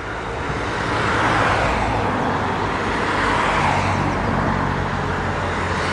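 Road traffic rolling past in a continuous outdoor wash of tyre and engine noise, swelling as vehicles approach and easing slightly as they pass, fairly loud with no gaps.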